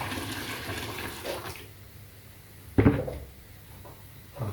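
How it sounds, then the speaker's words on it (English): Dechlorinated tap water poured into a Fluval Flex 123L aquarium filter, a soft trickle followed by a sudden loud splash and gush about three seconds in, then quieter flow. "Right, let's add some more water."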